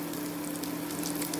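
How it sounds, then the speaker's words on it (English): Cottage cheese pancakes frying in a pan, a steady close crackling sizzle of oil with a faint underlying hum, unbroken and without speech. "So fry them"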